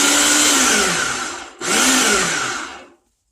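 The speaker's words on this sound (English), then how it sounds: "You put all your vegetables in your food processor and you just start to pulse." A food processor chops vegetables in two short pulses, a loud close whirring motor burst that stops briefly near the middle and then winds down to silence.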